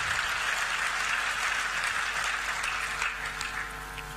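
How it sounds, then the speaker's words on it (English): Applause from the audience at a political party's leadership unveiling as allied party figures are recognised, steady crowd clapping at moderate level that thins slightly toward the end, with no speech heard. "they clap for you."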